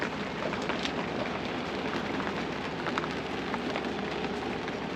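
Steady rain falls on a boat at anchor in Grenada on a blustery summer day, a dense, even hiss of drops close by with no voices.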